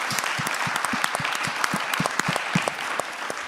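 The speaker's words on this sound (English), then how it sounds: "So let's have a round of applause." Close, sustained applause from a conference audience thanking the panelists, with sharp individual claps over a steady crowd wash throughout.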